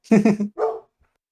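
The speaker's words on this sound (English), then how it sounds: "I don't think people want to listen to a giant dog bark" A large pet dog gives a pair of quick, loud, close barks followed by a third shorter bark, then falls silent.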